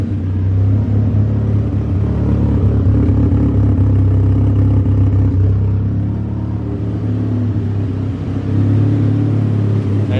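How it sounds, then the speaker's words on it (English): A car engine with an exhaust leak idles loudly up close, a deep steady rumble with a rough, ticking clatter running throughout, no voices. "we do have an exhaust leak"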